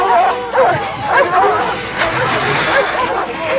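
Hunting dogs chasing a jaguar bark and yip repeatedly in quick, overlapping bursts, loud and close, with some yelping whimpers mixed in.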